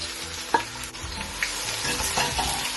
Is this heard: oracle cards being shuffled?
no